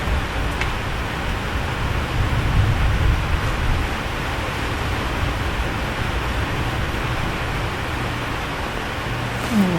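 A storm rages outside, with a steady broad rushing of wind and rain and a low rumble that persists throughout, even and unbroken with no talking.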